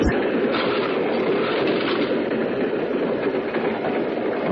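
A train rolls along its rails in a radio drama effect, a continuous loud rumbling roar with faint rhythmic clatter, steady and unbroken.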